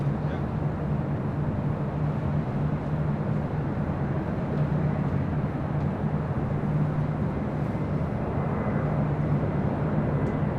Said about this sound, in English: Air France, the 777 be the next takeoff.